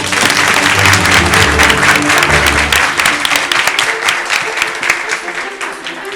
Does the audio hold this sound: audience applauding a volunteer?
yes